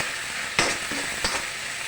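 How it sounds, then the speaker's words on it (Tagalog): Cooking oil for egg fried rice, sizzling steadily with two sharp pops standing out over the hiss, close and alone without talk. "Lumalagpitik-lagpitik na ang mantika."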